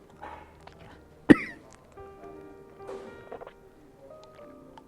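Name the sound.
man coughing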